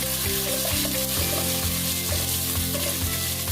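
Steady, loud sizzling of chopped onions frying with whole spices in oil for a methi pulao, continuous and close with no voices.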